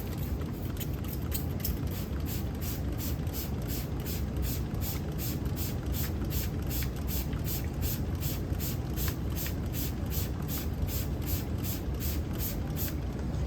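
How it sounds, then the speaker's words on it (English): A handheld spray gun mists emersed Amazon sword plants in quick, evenly spaced bursts, a rapid rhythmic hiss that repeats steadily over a low background rumble. "we're gonna give this one last good spray"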